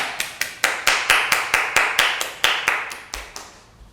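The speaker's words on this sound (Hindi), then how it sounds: "बड़ी तालियों के साथ स्वागत करें मिस्टर एनापोवा का" Audience members at an adult theatre workshop clap to welcome a speaker, with about fifteen sharp, evenly spaced rhythmic claps that fade toward the end.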